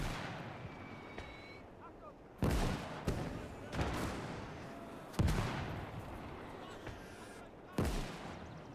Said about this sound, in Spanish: se recrea uno aquí en las explosiones que da gusto